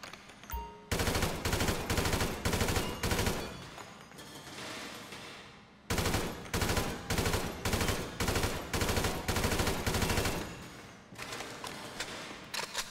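Gunfire at a first-person shooting range challenge in GTA 5, sounding as loud, evenly spaced bursts of rapid shots, with a pause around the middle before a second run of bursts.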